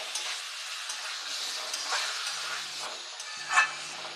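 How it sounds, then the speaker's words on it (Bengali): Pointed gourd frying with spices in a pan, a steady close sizzle with soft stirring scrapes throughout and no talk. "এইভাবে পটলটাকে কষবেন, মশলাটাকে ভালোভাবে পটলের ভিতরে যেন ঢুকে যায়।"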